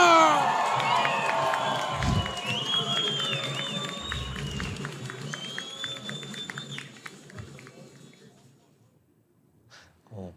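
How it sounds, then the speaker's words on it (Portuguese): A crowd applauds and cheers for Brazilian politician Pablo Marçal at an election debate for São Paulo, loud at first and tapering off over several seconds, with voices mixed in. "Uma salva de palmas ao Pablo Marçal!"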